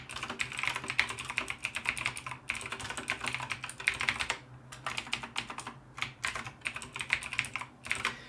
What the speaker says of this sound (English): Please let me know if my keyboard is too clicky, if it is annoying, so I will stop that.